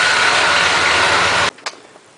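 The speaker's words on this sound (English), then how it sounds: "We're going to shut off the engine" A 1993 Dodge Dakota's 3.9L engine runs loud and steady up close, then cuts off abruptly, leaving a couple of faint clicks and knocks in near silence.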